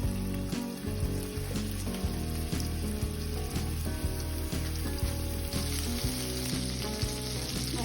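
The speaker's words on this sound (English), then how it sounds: "I'm just gonna start putting them in the pan." Meatballs frying in hot oil in a pan, a dense, steady crackling sizzle that stays close and even throughout with no voices, only faint ticks and pops over the continuous hiss.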